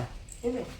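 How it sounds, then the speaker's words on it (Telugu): A dog gives a single short whimpering yip, close by, over a low background rumble. "కుక్క."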